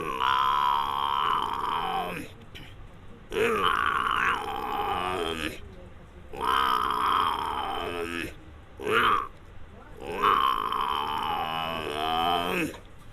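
A man imitates a buffalo with his voice, giving four long, deep groaning grunts separated by short pauses, close and fairly loud.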